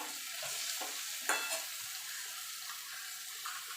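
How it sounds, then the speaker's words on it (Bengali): Pumpkin with poppy seeds sizzles in a hot pan as it is stirred, a soft frying hiss broken by several light scraping and clinking stirs, fairly quiet and close. "এবার পোস্তটা দিয়ে মিনিট খানিক একটুখানি নাড়াচাড়া করে নেব।"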